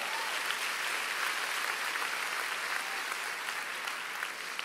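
Steady, dense applause from a church congregation during a sermon, sustained at even intensity for several seconds with no clear voices on top.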